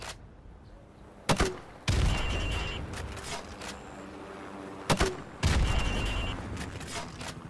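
Grenade launcher rounds fired at windows in Call of Duty: Modern Warfare Remastered, two pairs of sharp, loud reports each followed by a heavy booming blast and lingering rumble, spaced a few seconds apart.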